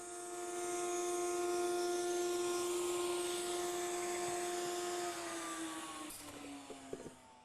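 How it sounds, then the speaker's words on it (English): A router cuts a chamfer along the edges of hardwood tongue-and-groove paneling for a cool box frame, giving a steady high-pitched motor whine that holds for about five seconds, then drops in pitch and winds down, with no talking. "I also want to run a chamfer around the inside edge of all of the pieces of the frame"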